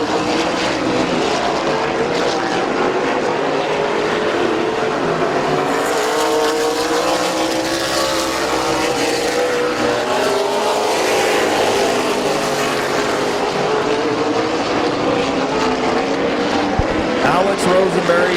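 Race cars roar around Midvale Speedway in a loud, continuous engine drone that swells and fades as the field passes, with a commentator talking over it throughout.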